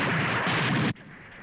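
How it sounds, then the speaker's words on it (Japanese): Anti-aircraft beam cannon firing in a cartoon: a loud, dense blast of heavy energy-weapon fire that holds steady for under a second, then cuts off sharply into a quieter rumbling tail. "対空ビーム砲発射。"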